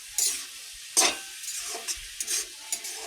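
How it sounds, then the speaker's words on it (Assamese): Pork frying in a pan with tomatoes, salt and turmeric over raised gas gives a soft sizzle, broken by several scraping, clattering stirs of a spoon against the pan. "এতিয়া মই মাংসখিনি অলপ সময় এনেকৈ ভাজি লৈছোঁ"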